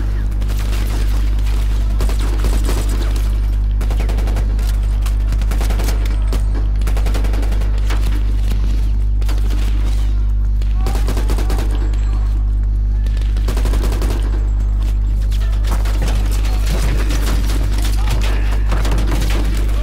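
Call of Duty Black Ops Cold War campaign firefight: loud, sustained gunfire with overlapping automatic bursts and occasional heavy booms over a constant low rumble, running without a break.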